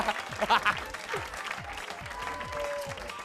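A studio audience on a TV variety show applauds a performer, the steady clapping sitting under voices and music with rhythmic low thumps.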